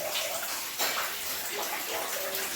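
Water drips and splashes steadily from a rock slab above the Tapkeshwar Mahadev temple on Osam hill near Patanvav, a continuous wet hiss that fills the surroundings.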